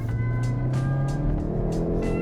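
Hyundai i30 Fastback N engine blipping as it rev-matches a downshift, a loud steady drone with short rises in revs and a few quick pulses over about two seconds.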